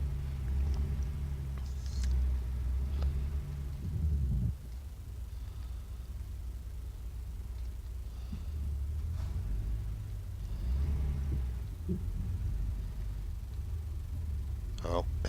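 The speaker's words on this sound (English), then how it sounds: "I don't know if this 550 horsepower engine's going to do it." Low, steady rumble of a 550-horsepower Peterbilt truck engine in a trucking video game, continuous and fairly loud throughout with slight rises in level, while someone talks over it.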